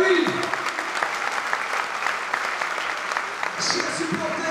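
Rugby supporters at a season squad presentation for Aviron Bayonnais applaud steadily, a broad crowd clapping with voices and a few cheers mixed in beneath.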